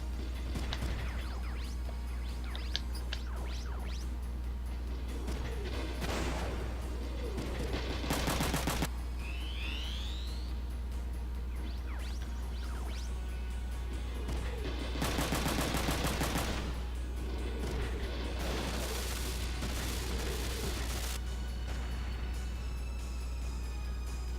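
Enemy machine gun fire in the video game Front Mission 3, several bursts of rapid shots with short pauses between them, loud and close over a constant low game hum, with no talking.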